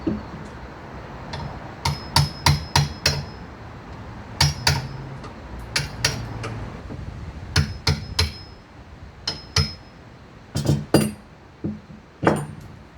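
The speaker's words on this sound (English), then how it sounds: "So now I'm just going to chisel out these cuts that I made." A chisel is struck repeatedly with a hammer to chisel out cuts, giving sharp metallic clinks in irregular bursts, close and fairly loud, with no talk.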